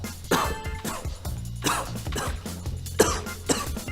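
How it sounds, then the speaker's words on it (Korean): A person coughs several times with a hoarse, sore throat, sharp bursts spaced unevenly over a steady low background. "요즘 기침이 너무 나는데 제가 요즘 목이 안 좋아가지고."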